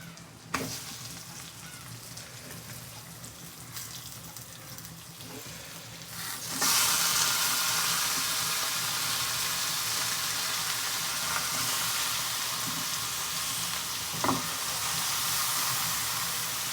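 Chicken pieces dropped into a sizzling chili spice mix, the frying bursting louder partway through and then holding as a steady, close hiss with occasional clatter, no talking.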